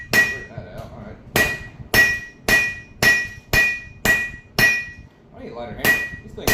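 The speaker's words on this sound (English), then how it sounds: "I need a lighter hammer. This thing is way too heavy." A metal hammer strikes hot iron during blacksmithing, landing about ten sharp, ringing blows in a steady rhythm roughly half a second apart, close and loud with quiet gaps between strikes.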